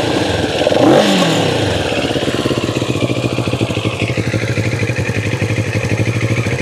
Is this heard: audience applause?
no